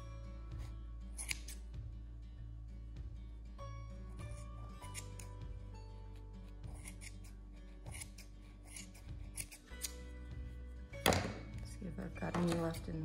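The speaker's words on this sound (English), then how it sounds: "I'm gonna cut these tails off." Scissors snip yarn tails and loops on a small knitted mini beanie, giving repeated short close clicks and crisp cuts scattered over a soft background, with a few louder snips near the end.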